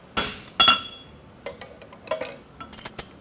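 A bob punch is struck against a steel horseshoe to raise a toe clip, giving a few sharp metallic clinks and taps spaced irregularly, the first two loudest and ringing briefly, then lighter strikes.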